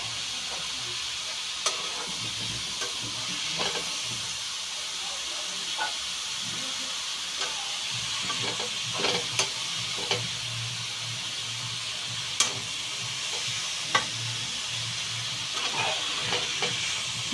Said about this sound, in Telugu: ఈ ఉల్లిపాయలు అనేది బాగా మగ్గే వరకు రేలు కూడా బాగా ఉడికేటట్టు ఫ్రై చేసుకోవాలండి.